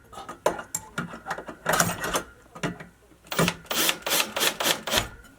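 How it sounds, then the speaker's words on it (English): Screws are driven into an electrical outlet box, giving a string of short clicking, ratcheting bursts in two uneven clusters, close and fairly quiet. "I'll get the screw, and then I'll just put a couple screws here."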